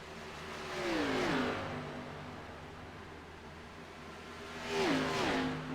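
NASCAR Xfinity race cars at Michigan roar past in two loud waves, engines whining and dropping in pitch as they go by, with a steady distant engine drone between passes and no voices.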